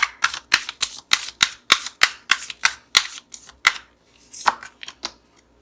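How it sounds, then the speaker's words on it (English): Tarot cards are shuffled close up, a quick series of about a dozen sharp snapping riffles in steady rhythm, a brief pause, then a few more. "So we're going to shuffle this again."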